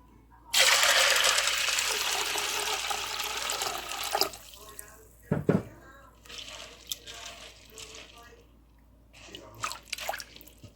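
Cold water runs from a tap into a bowl for soaking kidney beans, a bright splashing rush for a few seconds, then scattered drips, clinks and handling sounds.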